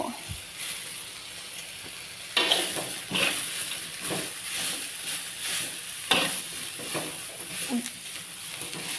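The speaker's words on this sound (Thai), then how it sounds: "ผัดแต่ผัก" Vegetables, including cabbage, are stir-fried in a pan with a constant hot sizzle, while a utensil scrapes and tosses them in repeated stirring strokes and metallic clinks nearby.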